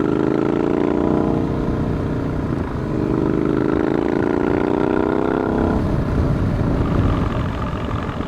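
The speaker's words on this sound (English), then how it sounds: "this bike just loves to take it up to the higher revs" A twin-cylinder motorcycle on a spring countryside ride revs hard through the gears, its loud steady engine drone rising in pitch, dipping briefly at a shift, then climbing again with wind rumble underneath.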